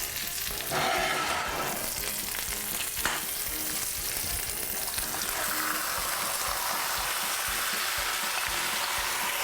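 Food with apples sizzles and crackles steadily in a hot pan, a continuous bright hiss with occasional stirring sounds, close by.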